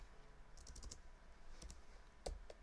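Someone types on a computer keyboard in short, irregular bursts of quiet clicks, faint and close, with a sharper keystroke near the end.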